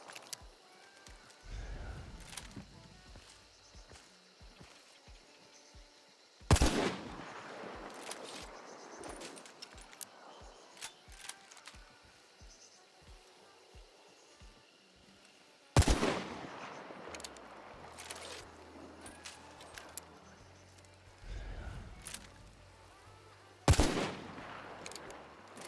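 Video game gunfire rings out as rapid bursts and single shots, with a few loud, sharp blasts standing out against quieter, steadily repeating shots over a long stretch.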